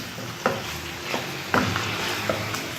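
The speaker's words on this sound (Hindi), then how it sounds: "इसके साथ हमने थोड़ी देर इसको भूनना है" Fried onions with mace, nutmeg and garam masala powder being sautéed and stirred for khoya korma, giving a soft steady sizzle broken by a few scraping stirs of the spoon against the pan.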